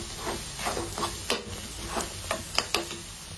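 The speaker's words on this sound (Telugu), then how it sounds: "ఇప్పుడు అందులో కారం వేసుకుని మళ్ళీ మిక్స్ చేసుకోవాలి" Chilli powder being stirred into egg curry (egg pulusu) in a pan, a spoon scraping and tapping in an irregular rhythm over a soft sizzle, close and moderately loud.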